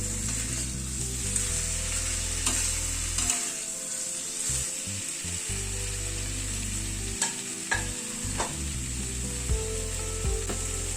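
Potato, pointed gourd and pumpkin are stirred with spices in a hot pan: steady frying sizzle with scraping and clanking of a spatula against the pan in irregular bursts, close and fairly loud, with no talking.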